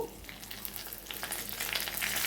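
Curry leaves fry in hot oil for a ridge gourd curry, giving a faint, close sizzle that swells toward the end, with no speech.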